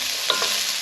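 Onions frying in an old pan, a steady close sizzle with a couple of brief stirring scrapes partway through.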